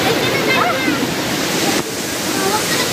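Gabur Gabur Falls roars in a loud, continuous rush of falling water close by, and excited voices talk over the steady wash of sound.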